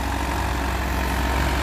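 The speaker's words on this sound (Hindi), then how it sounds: "तो देख सकते हो ट्रैक्टर चल पड़ा, 11 का टीलर है, बिना स्प्रिंग वाला है 11 का टीलर" A 60 HP category tractor engine runs with an 11-tine tiller without springs attached, producing a loud, steady low rumble and throb that holds constant throughout, close by with no voices.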